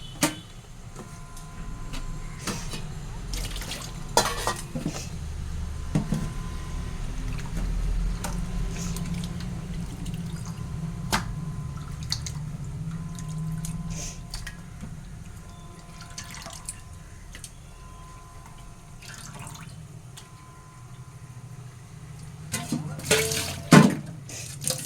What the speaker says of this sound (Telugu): ఇంకా శుభ్రంగా అయితే 4-5 సార్లు అయితే వాష్ చేసుకుంటాను అనమాట